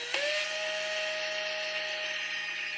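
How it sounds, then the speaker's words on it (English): A power drill whirs at a steady high pitch close up after a quick start, holding one even tone for a few seconds. "so I'm going to use my drill"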